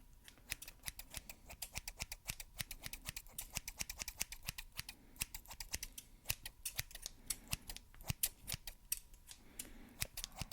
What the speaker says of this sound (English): So I'm gonna come in here with these scissors